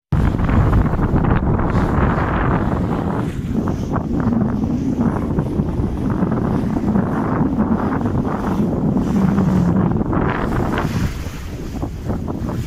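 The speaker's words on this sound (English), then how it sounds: "Wind in your sails." Strong wind roars across the microphone aboard a sailboat at sea, a steady loud gusting rush with water and waves beneath it, continuous for the whole stretch with no talking.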